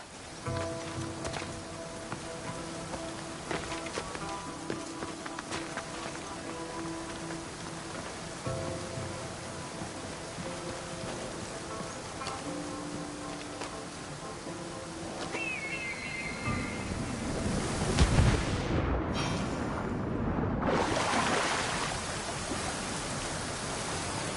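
Steady broadband rushing of a waterfall in a PS4 video game, a continuous wash of falling water under faint ambient tones, swelling louder toward the end with a brief dropout.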